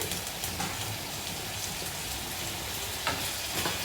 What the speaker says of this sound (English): Let it sear well.